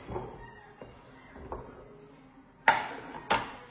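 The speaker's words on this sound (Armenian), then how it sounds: "Տեղափոխում եմ կարտոֆիլը կտրատված այստեղ։" Chopped potatoes are moved into a separate container, giving soft, sparse knocks and scrapes followed by two sharper clatters of utensil against the vessel near the end, close and fairly quiet.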